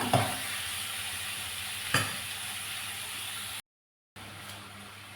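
Sizzling in a frying pan while preparing a paneer roll, a steady broadband crackle with a couple of sharp stirring knocks near the start and around two seconds, then a brief total dropout before the sizzle resumes.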